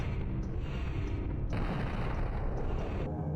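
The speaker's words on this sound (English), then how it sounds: "The Shockwave Cannon. And boy, is it fun to watch go off." Shockwave Cannon firing in the video game Turok: Dinosaur Hunter, a dense rumbling blast that swells, briefly drops away and surges again at full loudness, with no talking.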